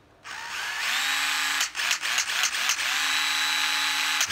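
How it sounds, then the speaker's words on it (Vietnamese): A Hitachi cordless angle drill driver runs in reverse with a close, steady high whine that ramps up, stutters through several brief trigger taps in the middle, then holds a sustained spin to the end. "Hitachi khoan bắt vít góc."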